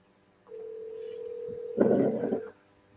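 A telephone call is placed: a steady dial tone holds for over a second, then a burst of dialing or connection tones follows before the line goes quiet, leading into an answering machine.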